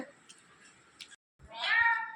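A faint rustling background gives way to a loud, drawn-out meow-like call near the end, a parrot mimicking a cat.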